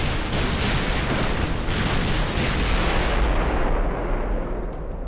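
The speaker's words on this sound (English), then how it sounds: "What are all the battleships doing? Oh, they're still shooting." Battleship guns fire in the naval video game Ultimate Admiral: Dreadnoughts, a loud, sustained roar of heavy artillery with booming blasts that rumble on before easing off near the end.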